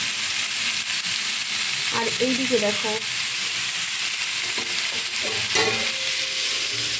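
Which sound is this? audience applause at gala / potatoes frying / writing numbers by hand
potatoes frying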